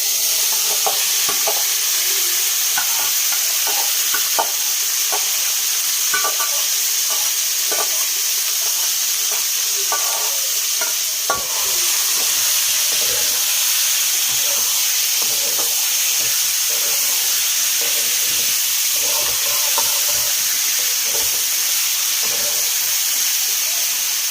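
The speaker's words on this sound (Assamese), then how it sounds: "এতিয়া মাংসটো ইয়াত বহাই দিয়া হ'ব।" Meat fries in hot mustard oil in a kadai, a constant loud sizzle and hiss with frequent scraping stirs and clicks of a spoon against the pan, close up throughout.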